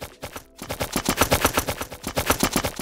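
Gunfire in a multiplayer PVP shooter game under development: a rapid automatic burst of shots repeating in a steady fast rhythm, loud and continuous after a brief gap near the start, with no talking.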